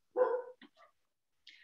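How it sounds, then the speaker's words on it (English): Dogs bark somewhere in a house, one strong bark followed by a few short yips and a faint, higher final bark, all fairly quiet with silence between. "I'm so sorry about the dogs."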